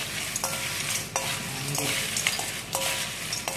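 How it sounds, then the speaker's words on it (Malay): Steady sizzling with scraping and stirring clatter as fried banana chips are tossed with salt in a pan, continuous and close, with occasional sharper knocks. "Kita gaul dengan garam"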